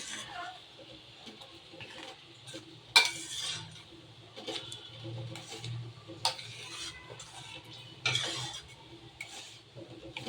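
Spinach dal with chopped coriander being stirred in a pot, with soft scraping and occasional sharp clinks of the spoon against the metal rim over a low steady hum.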